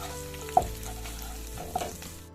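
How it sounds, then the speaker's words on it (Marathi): Chillies sizzle steadily in hot oil in a pan, with two sharp clinks of a spoon as they are stirred, close and moderately loud, with no talking. "आपण तेलात टाकलेत मिरचू ठीक आहे चांगलं हलवून घ्यायचं आपल्याला"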